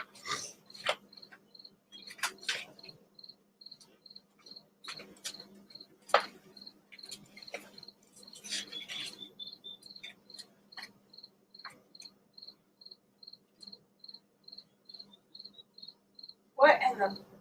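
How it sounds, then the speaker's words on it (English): Cicadas call on a summer evening in a fast, even train of high chirps that runs steadily throughout, mixed with scattered nearby clicks and knocks and a louder thump near the end. "Cicada, I think they call them, some people call them cicadas."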